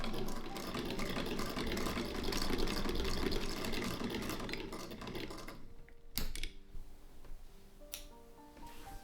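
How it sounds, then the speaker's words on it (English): A sewing machine stitches a French seam on fabric for adjustable pants, a dense rapid whir for about five seconds that stops abruptly, followed by a few clicks and quiet handling noises. "Just stitch your fabric right sides out, turn inside out, and press your seam all the way out into the edge and stitch again"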